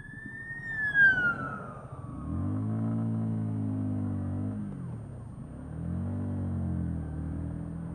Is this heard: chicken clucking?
no